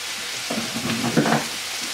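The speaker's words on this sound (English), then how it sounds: "now we're going to add a little bit of cream" Cream poured into a pan of sizzling tomato and pepper diablo sauce, giving a soft frying hiss with a brief stir and bubbling burst near the middle, close by and alone.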